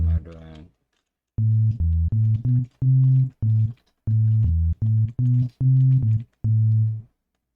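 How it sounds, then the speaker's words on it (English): Synthesized sine wave bass from an EDM production plays in a steady rhythmic pattern of about a dozen clean, sustained low tones separated by short gaps, loud and up front, with no voices. "We're gonna have like a sine wave bass."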